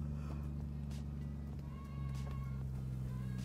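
Toyota Supra MK4 fitted with a Southbend stage 3 daily clutch is driven, giving a steady low engine drone and road rumble heard from inside the cabin, with faint knocks and rattles over it.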